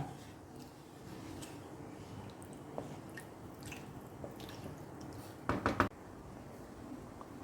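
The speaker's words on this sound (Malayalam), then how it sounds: "ഇപ്പോൾ നമ്മുടെ കറി നല്ലപോലെ തിളച്ച് വരാൻ തുടങ്ങിയിട്ടുണ്ട്" Quiet, soft bubbling of curry boiling in a pot, with scattered wet pops and a brief louder cluster of bubbles toward the end.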